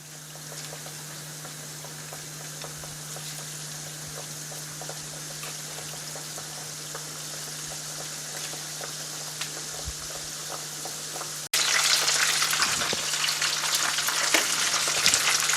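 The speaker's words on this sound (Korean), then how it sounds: "이렇게 지글지글 기포 있으면 굴 하나씩 넣어볼게요." Breaded oysters deep-frying in oil at about 160°C give a steady, dense sizzle and crackle throughout, jumping suddenly louder and brighter near the end as more bubbling erupts; no talking.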